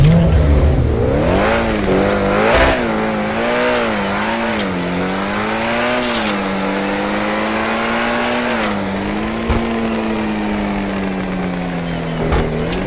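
A sports wagon car from GTA Online revs loudly and up close, its engine pitch climbing and falling through repeated throttle blips and sustained pulls, with no talking.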